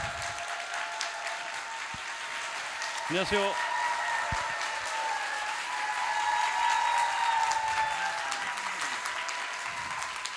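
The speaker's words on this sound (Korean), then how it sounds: "여러분 큰 박수 부탁드립니다" An audience at a science talk event welcomes an actor and a brain scientist on stage with sustained, even applause that stays loud throughout, while a brief greeting is spoken over it partway through.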